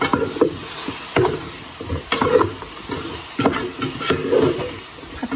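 Crispy pork being stir-fried with basil in a pan, loud close sizzling with repeated rhythmic scraping strokes of a spatula tossing the meat, roughly once per second, with no talking.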